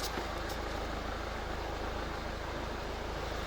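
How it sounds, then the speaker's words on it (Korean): A diesel SUV engine idles behind the closed hood, muffled and even, humming steadily throughout, low and constant with no changes in pitch or rhythm. "특이사항과 잡소리 없는 엔진 상태의 소음 들으실 수 있을 겁니다"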